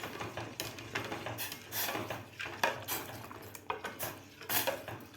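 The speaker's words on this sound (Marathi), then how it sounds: "आता आपल्याला हे पीठ एका हातानं वतून एका हातानं हलवायचं आहे, म्हणजे यामध्ये गाठी होणार नाहीत। एकसारखं याला हलवत राहायचं आहे।" A metal spoon stirs a ragi flour mixture in a cooking pot, steady scraping and clinking strokes against the pot repeating at an even pace, close by with no talking.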